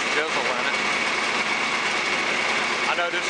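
A tractor engine runs steadily in a hard-ground field during chisel work, a constant droning rumble heard up close with a voice speaking over it.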